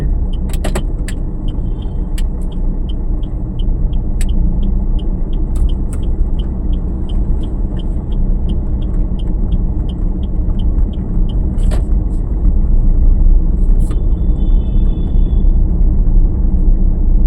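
A car engine rumbles steadily and loudly inside the vehicle during a driving lesson, with a few faint clicks and ticks over the constant drone.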